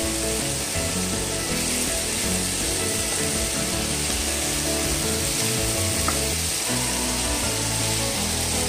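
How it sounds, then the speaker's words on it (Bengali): Food fries uncovered in a pan, a loud continuous sizzle and crackle with occasional scrapes of stirring and no talk. "আর যেহেতু এটা আমি ভাজা করবো, খুব ভালো করে ভেজে নেব"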